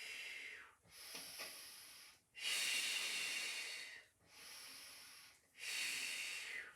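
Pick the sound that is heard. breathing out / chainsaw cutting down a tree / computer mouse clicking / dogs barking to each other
breathing out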